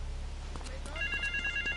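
A telephone ringing in GTA III, a short electronic ring that starts partway through and repeats in quick pulses over low background hum.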